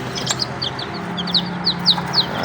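Newly hatched chicks cluck and chirp in a steady scatter of short, bright calls, close by in a brooder box, over a low background hum with no talking.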